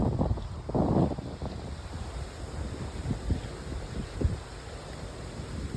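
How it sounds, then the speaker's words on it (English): Strong wind gusts suddenly through trees outdoors, a broad rushing roar with microphone buffeting, loudest in a surge near the start and then continuing unevenly with lower rumbling thumps. "All this wind just magically picked up out of nowhere."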